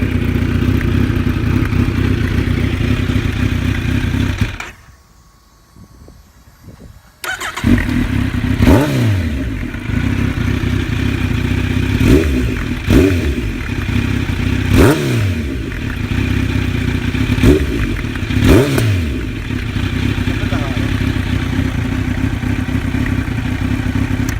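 A Kawasaki Z900 derestricted A2 bike with a baffle fitted runs close by, idling with a steady rumble, cutting out briefly, then restarting and revving repeatedly in sharp rising bursts.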